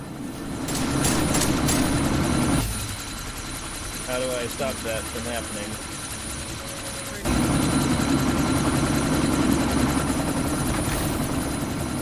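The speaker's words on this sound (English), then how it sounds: "That chopper's about to take off!" In the Deus Ex video game, a helicopter sits ready for takeoff, its rotor and engine roaring in a loud steady wash. A voice speaks briefly during a quieter middle stretch before the full roar returns.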